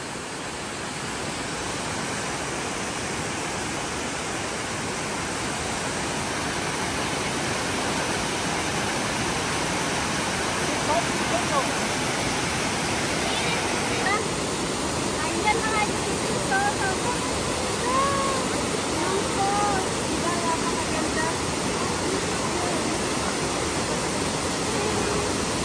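Anna Ruby Falls in Georgia roars with a steady, dense rush of falling water, constant and full throughout with no let-up.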